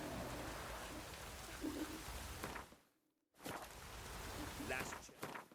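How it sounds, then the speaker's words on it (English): Steady rain patters in the video game The Witcher 3, with a brief drop to silence before the rain resumes. Faint footsteps and voices come through under it. "Looks like rain."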